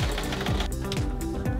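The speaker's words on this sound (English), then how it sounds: "Sew that together." A sewing machine stitching a skirt runs steadily at close range, its needle thumping in a quick even rhythm under a continuous motor hum, with no voices.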